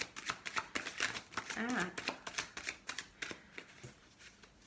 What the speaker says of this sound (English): I never used to just shuffle through like this.